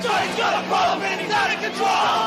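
A large punk rock concert crowd of thousands in Southern California shouts and roars continuously, loud and close, with rising and falling waves of voices.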